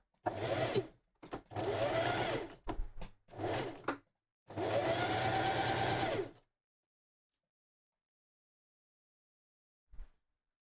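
Sewing machine stitching a dart in a cosplay garment, several close bursts of fast mechanical whirring separated by short pauses, the longest run lasting about two seconds, then silence with a faint knock near the end.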